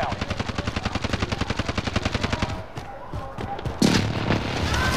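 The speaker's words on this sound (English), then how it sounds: "friendly precision airstrike inbound" Video game airstrike heard as a loud, rapid run of sharp, evenly spaced automatic bursts that fades after about three seconds, followed by a heavy boom.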